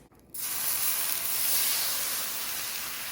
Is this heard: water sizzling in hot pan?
yes